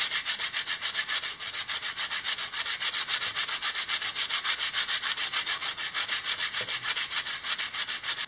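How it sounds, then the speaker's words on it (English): A paddle wheel part for a Shark Slicer is hand-sanded in quick, even back-and-forth strokes, a close, continuous rhythmic rasping that lasts throughout. "I just have to sand it a little bit."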